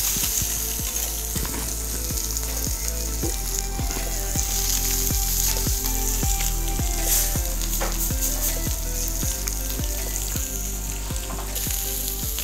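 Snapper and mahi mahi fillets sizzle steadily in a hot pan after being turned over, a loud, continuous frying crackle with small regular clicks running through it and no talking.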